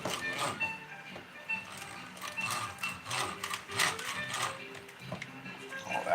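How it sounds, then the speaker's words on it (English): An electric hand mixer whips cream cheese filling for pumpkin bread in a Lodge skull baking pan, giving a busy, uneven whirring with rattling clicks and bursts as the beaters knock around the bowl. "we'll break out the mixer again and give this a mixing"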